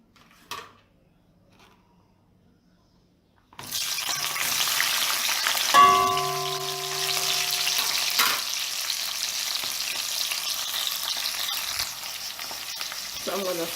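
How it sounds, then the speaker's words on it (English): Seasoning hits hot vegetable oil in a pot on medium-low heat after a brief quiet moment, starting a loud steady sizzle that continues throughout, with a short ringing metallic tap partway through. "So I'm going to saute the seasoning until they are translucent."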